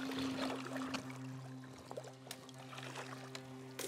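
A kayak pushes through an overgrown stream, with quiet water trickles, paddle knocks and brushing against vegetation, a steady low hum beneath and a few sharp clicks.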